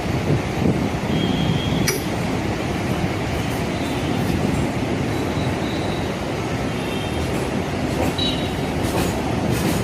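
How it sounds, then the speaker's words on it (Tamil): A suburban train runs on ballastless track with a steady, loud, continuous rumble, faint wheel squeals and occasional sharp clicks over the rails, and no voices. "இது கிட்டத்தட்ட ட்ராக் மேலே ட்ரெயின் போயிட்டு"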